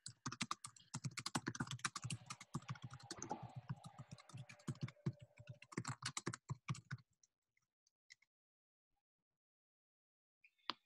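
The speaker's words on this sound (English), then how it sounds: "I'm going to write it in the chat box for you." A message is typed into a chat box on a keyboard in a fast, steady run of close, crisp keystrokes for about seven seconds, then a few stray taps with quiet gaps between them.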